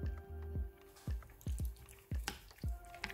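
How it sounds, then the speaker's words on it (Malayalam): Wet squishing and dripping as chicken pieces are mixed by hand with salt, chilli powder and dark soy sauce, a series of soft, irregular squelches, quiet and close. "ഇനി ഇത് നമുക്ക് നല്ലതുപോലെ ഒന്ന് മിക്സ് ചെയ്ത് എടുക്കാം."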